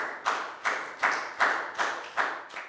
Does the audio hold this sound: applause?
yes